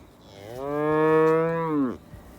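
One long, loud moo from a weaned calf nearby, rising and holding for about a second and a half before dropping off abruptly.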